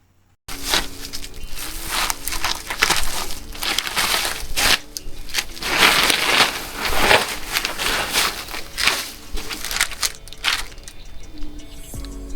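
Plastic bag wrapping around a car radiator support panel is handled and crumpled up close, a continuous loud crinkling and rustling with irregular surges.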